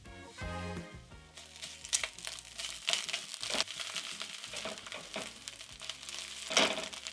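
Ginger garlic paste and tomato paste fry in a pot of chickpea masala, giving a steady close crackle and sizzle with scattered stirring scrapes and clicks.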